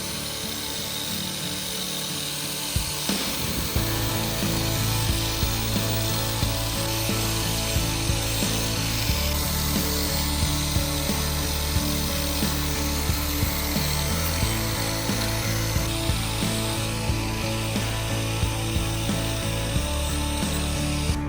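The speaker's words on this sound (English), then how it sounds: "We minimize chips on the tile with the help of the grinding wheel for ceramic tiles." A grinding wheel for ceramic tiles works on clinker facade tiles, giving a loud, continuous whining grind with a steady buzzing drone and repeated ticking clicks throughout, and nobody speaking.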